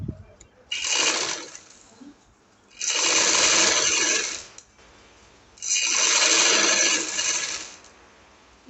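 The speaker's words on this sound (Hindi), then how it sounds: "इस तरह हम अपनी पूरी सिलाई लगा" A sewing machine stitches an angrakha frock in three long runs of steady, rapid whirring, each a few seconds long, separated by short pauses, close and clear with no talk.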